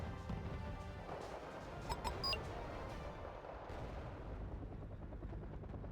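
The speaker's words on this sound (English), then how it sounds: "rocket fire inbound." Battlefield gunfire and explosive crashes from rocket fire in Arma 3, a dense, continuous barrage with sharp bursts near the two-second mark over a constant rumbling background.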